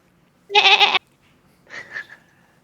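A baby goat cries from down a hallway: one loud, quavering bleat, then a fainter, shorter second cry after a pause, sounding eerily like an infant.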